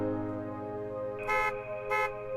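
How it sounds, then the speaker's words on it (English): In the Narcissu visual novel, car horns sound from behind at a dark intersection: two short blasts over a steady tonal background, fairly loud. "From behind came the sound of car horns blaring at us as we suddenly pulled into the lane."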